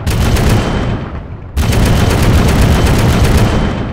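A tank cannon fires APFSDS rounds in ArmA 3 with an Australian Army mod. A loud, dense roar of fire dips briefly, then slams back in with a sharp blast and rumbles on steadily.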